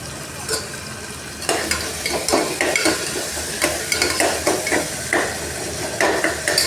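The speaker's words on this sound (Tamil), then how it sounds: "வெங்காயம் தக்காளி கொஞ்சம் வதக்கி விட்டுட்டு நல்லா அது வதங்கிறதுக்கு கொஞ்சம் உப்பு போட்டுக்கலாம்." Onions and tomatoes with green chillies and salt sizzle and fry in a pan while being stirred, with repeated utensil scrapes and clinks over a steady frying hiss, close and moderately loud.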